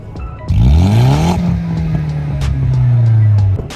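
An Audi S3 8L turbo engine revs hard, pitch sweeping up quickly then holding a loud, steady drone before cutting off abruptly; close and powerful.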